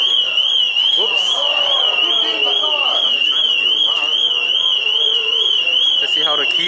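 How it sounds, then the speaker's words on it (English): A Ferrari SF90 Stradale car alarm wails in a continuous, loud warbling siren tone while someone talks over it. "And that's how the alarm sounds like."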